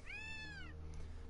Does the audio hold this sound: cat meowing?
yes